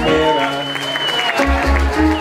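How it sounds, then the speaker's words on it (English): Clapping from a church congregation in Zimbabwe, offered to a priest, heard under sustained tonal sound with a low rumble entering partway through. "Let's give a clap offering, wild clap offering to our priest"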